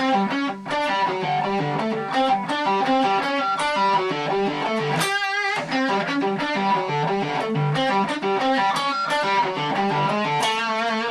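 A distorted electric guitar plays a riff at a slow, deliberate pace, with chugging notes and a brief pause midway.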